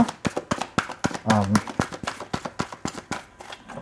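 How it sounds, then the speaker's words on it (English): Tarot cards are shuffled nearby, quick papery riffling and soft taps repeating in an uneven rhythm, with a person talking over them. "I'm pretty sure you can hear the shuffling happening over there."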